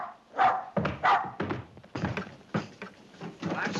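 A dog barks in a vintage 1939 comedy film scene, a run of close, fairly loud barks and yelps with bumps and thuds mixed in.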